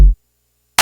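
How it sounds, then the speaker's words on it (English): A single short dry electronic clap sample without effects, sharp and close, followed by silence, then another bright noisy burst at the very end. "Without effects, sounds like this."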